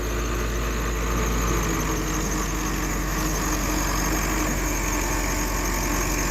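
A Case W14C wheel loader idles in a sawmill yard, its diesel engine a steady, loud, low rumble that holds unchanged throughout with no other sounds standing out.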